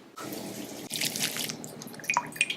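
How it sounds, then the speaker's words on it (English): Water drains and drips steadily as excess moisture is strained out of fresh pumpkin puree, with close trickling and a few splashes. "you want to strain out the extra moisture so the pumpkin puree isn't too liquidy"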